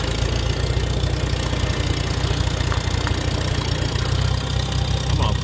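An antique tractor engine runs steadily at a low, even chug while the tractor is driven in reverse, loud and close throughout with no talking.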